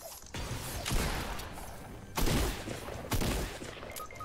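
Bursts of gunfire in a squad-based shooter video game, a few sharp volleys and thuds spaced a second or two apart, moderately loud against a low background.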